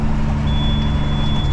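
A semi truck backs up with its steady high-pitched reversing beeper sounding continuously over a loud, low engine rumble close by.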